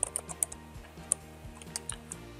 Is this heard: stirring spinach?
no